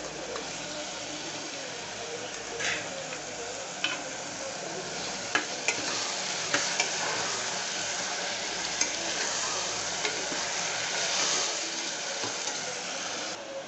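Ginger garlic paste and chopped tomato fry and get stirred in a pan for veg pulao, giving a steady close sizzle with scraping stir strokes and a few sharper clinks throughout.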